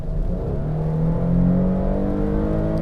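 A 2022 Nissan Frontier Pro-4X pickup truck accelerates at full throttle from about 50 km/h, its engine droning loud and continuous as the pitch climbs steadily, heard from inside the cab without talking.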